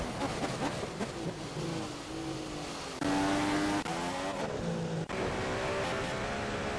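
Race car engines in the F1 2015 video game at the Russian Grand Prix, a loud continuous high-pitched whine with shifting revs and overlapping cars.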